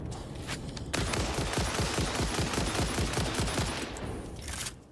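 Rapid automatic gunfire in Satisfactory, a sustained burst of evenly spaced shots rattling for about three seconds after a brief lead-in, loud and close with no talk over it.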